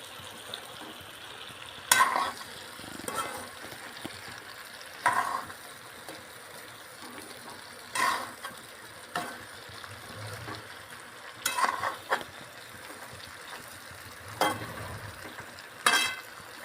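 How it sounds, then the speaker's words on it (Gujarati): Whole stuffed okra frying in oil in a pan are turned with a spoon, with scraping stirs roughly every few seconds over a quiet, steady sizzle, close and without speech. "ભીંડા હવે તેલમાં બફાઈ જાય એવું લાગે છે ઉપર નીચે કરીને જોઈ લઈએ"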